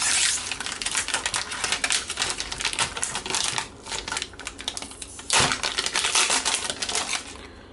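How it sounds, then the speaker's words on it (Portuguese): A utility knife slices through the plastic packaging of a PNY SSD, giving close, dense scraping and crinkling cuts with a brief pause partway and a sharp crackle near the end. "Vamos utilizar o nosso estilete mágico novamente."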